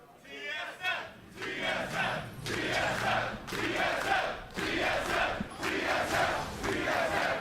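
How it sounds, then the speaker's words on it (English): An esports arena crowd chants for TSM at an LCS North America Spring playoff semifinal, loud rhythmic bursts of massed voices rising and falling in steady waves. "TSM chants always strong here."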